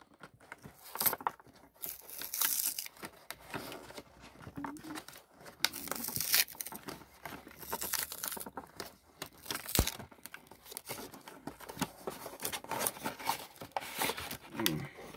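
Plastic packaging on a Mechanized Madness structure deck of trading cards is torn open, giving a close, continuous stretch of crinkling, ripping and crunching with sharp irregular peaks and no talking.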